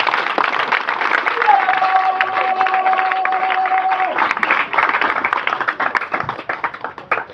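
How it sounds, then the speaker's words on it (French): An audience at a political party's closing event for women's month applauds in a dense, steady wash of clapping that lasts the whole stretch, with crowd noise and a brief sustained tone in the middle. "je vous demande de l'applaudir"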